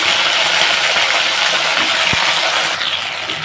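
Okra pieces hit hot oil with nigella seeds and green chilli, giving a loud, steady, hissing sizzle throughout with a single sharp clink partway through.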